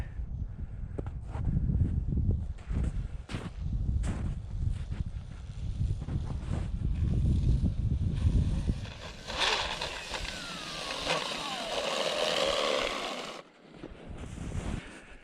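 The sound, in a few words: SkeeRide 2 RC jet ski running on water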